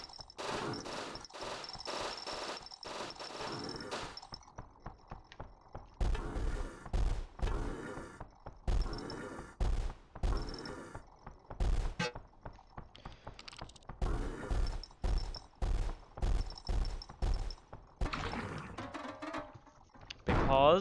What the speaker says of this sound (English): Those are several flechette grenades, which, as you can see, fuck up anything around them.